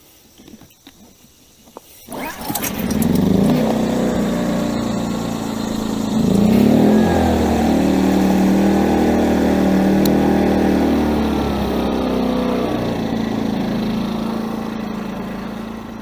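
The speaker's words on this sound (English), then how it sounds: "let's start the engine up and see how things go here" A WEN 56225i inverter generator engine starting up, a pull and sputter then a steady running drone that swells once as it settles, close and loud, continuing alone.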